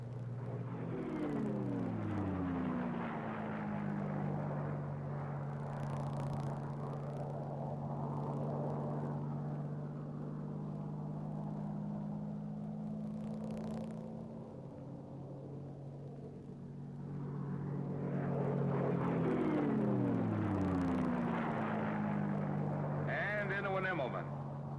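A WWII P-51 Mustang piston engine drones steadily through a loop, its pitch and loudness sweeping down and then climbing again as power changes, a continuous loud roar filling the whole stretch.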